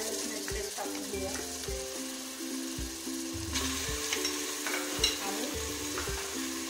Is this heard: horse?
no